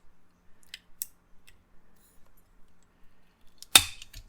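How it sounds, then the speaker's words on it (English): A miter cutter snips small wooden pieces for a miniature dollhouse, giving a string of faint light ticks and then one sharp, louder crisp snap near the end, close up with no talk. "Okay, and so I'm going to cut those rounded ends off."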